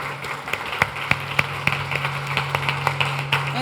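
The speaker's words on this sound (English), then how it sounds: "another big round of applause." An audience applauding at a career and leadership event, a standing round for guests: a steady wash of many hands clapping with sharper individual claps popping through, moderately loud and sustained throughout.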